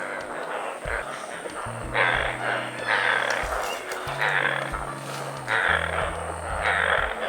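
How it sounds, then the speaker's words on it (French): Frogs croak in steady, overlapping pulsing calls, with a faint high insect hum behind them, outdoors by drying water on a banana plantation in Guinea. "vous entendez les grenouilles"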